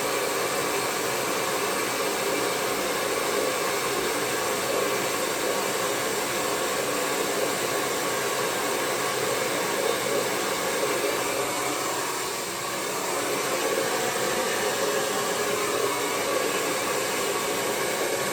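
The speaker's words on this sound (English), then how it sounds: "I'm gonna spin it and blow dry on it." A hair dryer blows steadily and loudly throughout, a continuous broadband whoosh used to dry paint, with a brief dip in airflow partway through and no talking.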